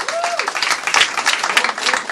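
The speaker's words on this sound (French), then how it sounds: "il y a Nella, Thérèse et Virna que je vous demande d'applaudir pour qu'elles puissent venir" Concert audience clapping for performers, uneven and loosely spaced handclaps from a modest crowd with a brief voice or whistle-like tone near the start.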